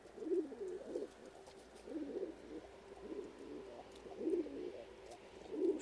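Pigeons of fine breeds coo repeatedly inside a loft, soft rolling calls recurring in bursts every second or so at moderate distance, with faint rustling and no talk.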